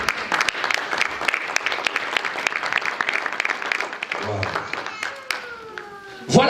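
Church congregation applauding during a sermon, steady crowd clapping mixed with voices and cheers, which breaks off near the end as a single voice rises.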